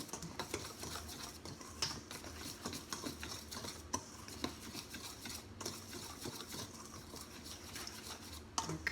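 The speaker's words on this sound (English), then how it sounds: "So mix it really well." Dry rye flour and caraway seeds being stirred together in a bowl for bread dough, a steady scraping and rustling with light clinks of utensil on the bowl, close and fairly quiet.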